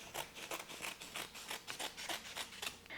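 Scissors snip through folded boob tape in a quick, close run of short crisp cuts, steady and rhythmic, with no talking.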